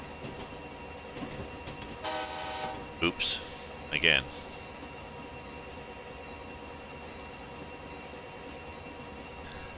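An NJ Transit train in the Train Simulator 2020 game rumbles steadily through a yard, with a metallic squeal and a few sharp clanks partway through, while a person speaks briefly over it.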